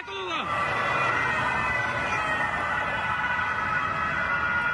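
Police sirens during a car chase in the Valbelluna valley, a wailing tone that sweeps down at the start and then holds steady over loud rushing road noise.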